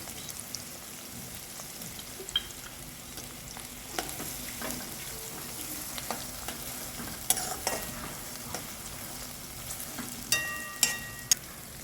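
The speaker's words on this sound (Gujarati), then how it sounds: "મરચાં અને દાણા બરાબર થોડું ફ્રાય થઈ ગયું છે" Green chillies and peanuts fry with ginger-chilli paste in a pan for farali moraiya khichdi, giving a low steady crackle with scattered stirring scrapes and a few sharper clinks near the end, no voices.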